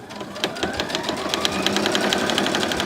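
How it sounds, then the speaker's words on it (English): A household sewing machine stitches steadily under start-stop button control with the presser foot removed, a fast even mechanical ticking that runs close and continuous throughout. "Today I'm going to disattach my sewing foot and use the start-stop button."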